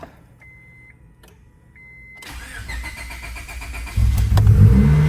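Integra car engine with a weak battery cranks and catches after a charge, the start building around two seconds in, then settling into a steady idle and a louder rev toward the end, close by.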